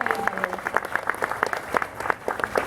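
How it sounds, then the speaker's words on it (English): A crowd at a coach and cab car unveiling event claps for the staff, sharp distinct hand claps in a steady patter throughout, close and fairly loud. "Can we give them a big round of applause for putting this all together?"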